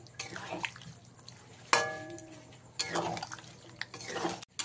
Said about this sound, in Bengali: মিক্সি ধোয়া জলটা আমি দিয়ে দিলাম।